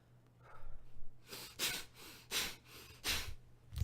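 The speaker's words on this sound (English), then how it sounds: "in, out, in, out, in, out, in, out through your nose" Rapid, forceful breaths pushed in and out through the nose as a breathing exercise, about half a dozen sharp snorting puffs in quick succession after a brief quiet start.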